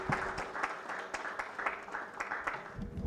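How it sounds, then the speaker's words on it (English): An audience at an award ceremony applauds, a dense, moderately faint patter of many hands that swells and eases over a few seconds. "Another round of applause, distinguished ladies and gentlemen"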